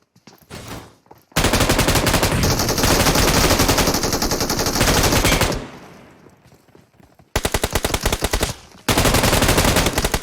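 Rapid automatic gunfire in the mobile battle royale PUBG Mobile, loud dense bursts of machine-gun shots in long volleys broken by brief pauses and a quieter stretch, then more fast firing.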